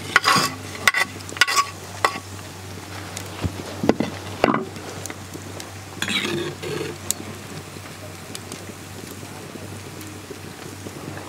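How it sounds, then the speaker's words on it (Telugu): Pre-fried cauliflower pieces being stirred in a pan for cauliflower rice, with scraping strokes and soft sizzling, a few sharper utensil clinks early on, close and moderately loud. "ముందుగా ఫ్రై చేసుకున్న క్యాలీఫ్లవర్ ముక్కలు కూడా వేసుకుంటున్నాను"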